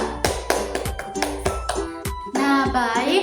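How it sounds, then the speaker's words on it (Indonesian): Scattered hand claps for a student group in a microteaching class session, irregular and fairly close, mixed with sharp taps and a voice rising at the end. "tepuk tangan dulu untuk kelompok 3"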